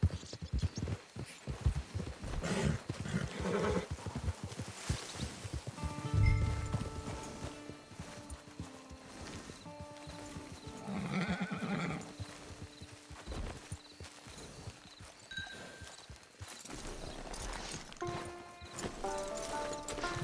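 Steady clip-clop of horse hooves in a video game at an easy walking pace, with a low hum and a faint whinny in the background, no talking.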